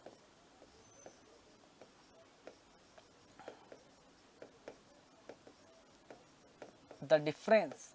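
Pen writing notes by hand during an engineering metrology lecture makes soft, close scratches and light taps in an irregular rhythm, followed by a short burst of speech at the end.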